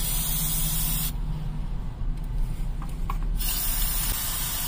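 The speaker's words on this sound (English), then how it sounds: "Let's spray some more in there and we'll let it soak" A short burst of penetrating oil sprays from an aerosol can onto a stuck Volvo Penta fuel injector, hissing for about two seconds, close by, set against a steady background noise.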